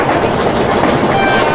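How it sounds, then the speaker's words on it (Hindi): An Indian local train passes by in the MSTS Open Rails train simulator, a loud continuous rumble with rattling wheels and rolling carriage noise filling the whole stretch. "And we are going to cross Titwala CST local train."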